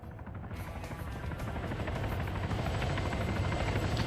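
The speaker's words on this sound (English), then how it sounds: "Now you got the helicopter coming in." Helicopter in a multiplayer military shooter game, rotor thump building steadily as it approaches and grows louder, a continuous throbbing drone with no talk over it.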